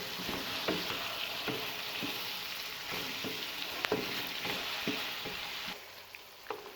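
Vegetables stir-fry with soy sauce and vinegar for chicken fried rice, a constant close sizzle broken by regular spatula scrapes and clinks as the pan is tossed.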